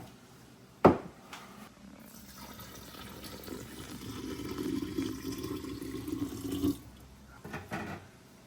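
Vinegar is poured into a measuring cup. A sharp knock comes first, then a steady stream of liquid builds for a few seconds and stops, followed by light handling.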